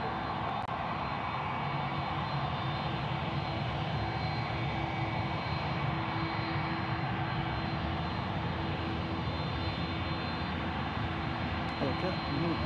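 Jetstar jet airliner taking off at night at Sydney Airport, a steady broadband engine roar heard from a distance, holding at a constant level throughout without clear rise or fade.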